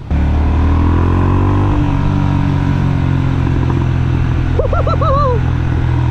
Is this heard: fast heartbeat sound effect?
no